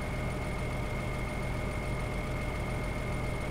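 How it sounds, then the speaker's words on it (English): Steady low rumble of a farm tractor engine idling, constant and even for the whole stretch with a faint tonal whine above it and no other sounds or voices. "Now, we can get this tractor and we can attach the trailer on the back of it."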